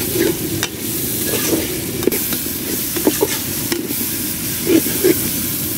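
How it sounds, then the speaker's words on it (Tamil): Tomatoes and onions sauté with salt in a pot on a wood stove while mutton biryani is cooked, producing a continuous loud sizzle and hiss with frequent scraping stir strokes. "அது நல்லா கொஞ்சம் வதங்கிட்டு அப்புறம் பெரிய வெங்காயம்."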